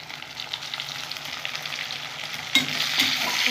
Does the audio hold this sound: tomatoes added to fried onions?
yes